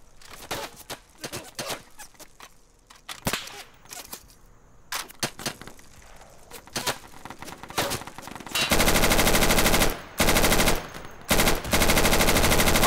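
Sustained automatic gunfire from an Insurgency firefight, scattered shots at first, then loud continuous bursts that fill the last few seconds with brief gaps.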